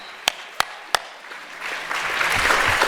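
An audience at a vegan festival panel applauds a speaker. A few sharp, separate claps come first, then the clapping builds into a growing wash of applause.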